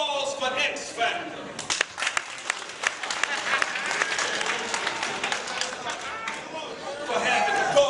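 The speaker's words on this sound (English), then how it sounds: "Round of applause for X-Factor." A crowd at a game-show style event applauds with steady clapping and some cheering, moderately loud and sustained, with voices over it.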